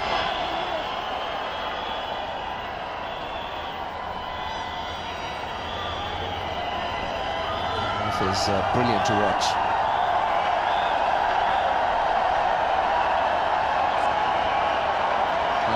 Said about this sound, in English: Been a massive crowd. They're making a lot of noise,